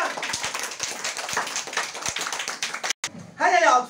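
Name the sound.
children applauding a student in class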